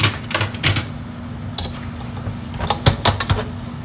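Pork pieces stirred in caramel sauce in a pot: scattered scraping and light clinking of a utensil against the pot over a low, steady background hum.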